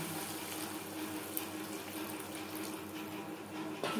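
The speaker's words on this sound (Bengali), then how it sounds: "দিয়ে দেব জল" Water is poured into fish curry masala in a pan for a Bengali chela fish tomato curry, a steady, even splashing pour that carries on throughout at moderate level with no talk.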